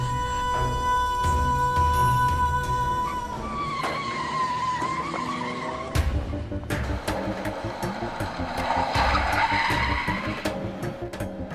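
Tyres squeal in a long, sustained shriek as a car skids hard, then the screech shifts and continues with engine noise in a dramatic scene where the car gets a puncture.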